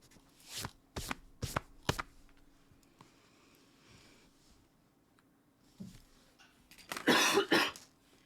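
A person coughs several times in quick, sharp bursts, then falls quiet before a final louder cough and throat clearing, close to the microphone indoors.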